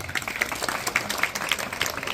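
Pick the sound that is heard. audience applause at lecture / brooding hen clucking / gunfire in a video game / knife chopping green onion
audience applause at lecture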